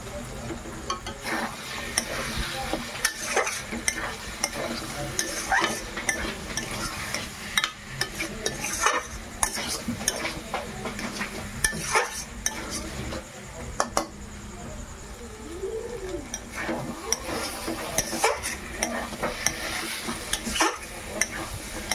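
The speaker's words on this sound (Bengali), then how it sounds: "চানা মশলাটা ভালোভাবে কষানো হয়ে গেছে" Chana masala is stirred and fried in a pan, a continuous close sizzle with frequent scraping and clinking of a utensil against metal, and a voice speaks faintly at times.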